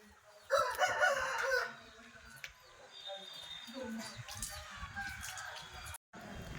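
A 3-kilogram rooster crows loudly nearby, one long strained call, followed by softer clucking and background chatter from people.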